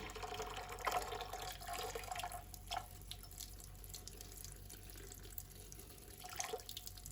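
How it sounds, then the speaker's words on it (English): Tap water pours over a piece of jewellery, forced through its setting, making a quiet, steady trickle with a few soft drips and splashes. "what that does is just sort of forces water through the setting"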